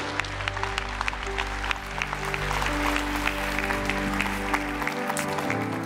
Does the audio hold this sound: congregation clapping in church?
yes